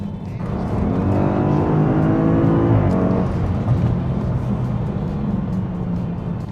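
A stage 2 tuned Audi S8+ Performance engine revs hard and accelerates up through the gears, its rising drone loud and close before settling into a steady cruising hum.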